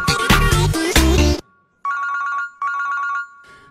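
A loud, close phone ringtone plays for an incoming call, starting as a bright melodic burst and then repeating as short electronic rings separated by brief silences.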